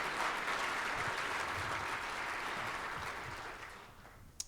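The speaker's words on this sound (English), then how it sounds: "Let's give them a round of applause." Audience applause fills the room at an education event: dense, steady clapping from a crowd that gradually fades toward the end and closes with one sharp clap.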